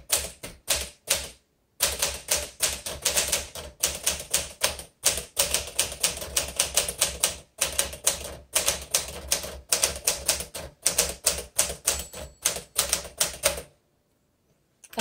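A 1957 Smith Corona Sterling manual typewriter clacks with rapid bursts of close, crisp keystrokes, broken by brief pauses, and then goes quiet at the end.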